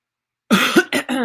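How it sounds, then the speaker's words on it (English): A few sharp coughs close by, three bursts in quick succession after a moment of silence. "I'm coughing"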